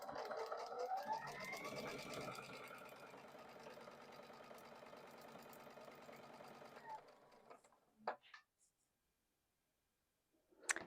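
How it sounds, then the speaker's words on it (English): Home sewing machine stitching lines on half square triangle quilt fabric, a steady mechanical whirring hum that rises in speed, runs about seven seconds, then stops, followed by a few brief clicks and rustles. "I'm just going to sew a few more lines to show you"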